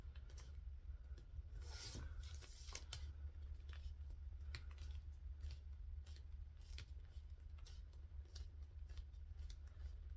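Three-quarter-inch double-sided tape is pressed and rubbed down on fabric for a bag, giving quiet scratchy rubbing and light crackling taps that continue close up, with no talking.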